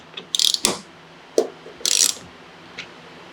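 Ratchet wrench tightening the bolts that mount a SARD wing onto an ND Miata: several short bursts of rapid clicking, close and fairly loud, separated by brief pauses, with no talking.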